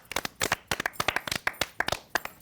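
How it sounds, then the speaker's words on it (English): A small panel of people applauding, a light, uneven patter of close hand claps lasting a couple of seconds with no voices over it. "who are those people applauding?"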